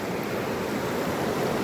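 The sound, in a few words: mountain creek water flowing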